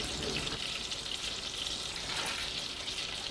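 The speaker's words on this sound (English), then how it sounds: "we're going to do a quick saute of 3 large onions or medium-sized onions" Onions sauté in hot oil in a pan for split pea soup, a dense, even sizzling hiss heard up close for a few seconds without speech.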